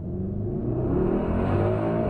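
A 603 hp Mercedes-AMG GLS 63 accelerates hard, its engine a loud, steady, deep roar heard from inside the cabin with no talk over it.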